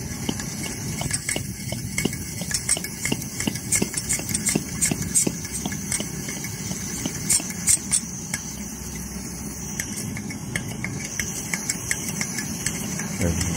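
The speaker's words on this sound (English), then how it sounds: "Yeah, a bit more pressure needed, I think, there a little bit. There's a lot of fuel in it, so, you know. Look at that. I'm burning well now." A Coleman Dual Fuel 533 camping stove burning after priming, giving a steady rushing roar with irregular ticks and pops throughout, close and loud, without talk.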